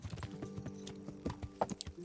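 Horse hooves from the video game Kingdom Come: Deliverance, a quick run of clip-clop footfalls on hard ground, fairly close, with some irregular louder knocks toward the end and a faint tonal bed beneath.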